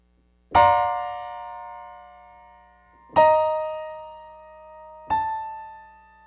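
Three sustained piano chords, an orchestral chord voicing, struck one after another with pauses between, each ringing out and slowly decaying, rich and full.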